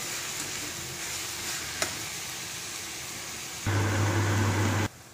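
Chopped green onion and vegetables fry in a pan over a medium gas flame, a steady hiss that grows louder and harsher for a moment near the end.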